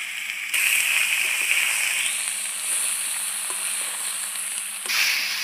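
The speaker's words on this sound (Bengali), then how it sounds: "মশলাটা ভালো করে ভাজা হয়ে গেছে, ধুয়ে রাখা লাউ দিয়ে দিচ্ছি" Washed bottle gourd dropped into a pan of spices frying with bay leaf and radhuni, setting off a loud, close, continuous sizzle that stays strong and even throughout.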